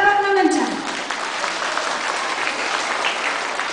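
Audience applause breaks out at a high school recognition and closing exercises in Mangatarem, a dense wash of clapping that swells right away and holds steady and loud. Brief voice and tones sound at the very start.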